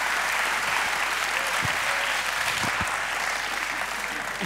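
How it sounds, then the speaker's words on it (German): Studio audience at a TV comedy show applauding steadily, a dense, even wash of clapping throughout at moderate level with no talk over it. "Mehr Applaus. Mehr Applaus."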